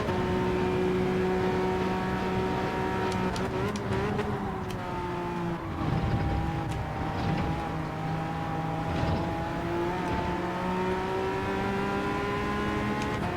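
A race car engine drones steadily throughout a Daytona racing video game, its harmonic whine shifting pitch slightly as the car holds speed, loud and continuous with brief dips around gear changes.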